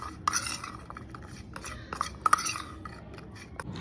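Food being mixed with salt and oil in a bowl, faint scattered clinks and scrapes of a utensil against the dish, quiet and intermittent with no talking.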